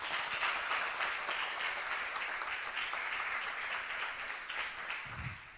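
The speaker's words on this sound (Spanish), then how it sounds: "Yo creo que se merece un fuerte aplauso." An audience gives sustained applause, a dense, even wash of clapping that starts strong and tapers slightly, with a brief low thump near the end.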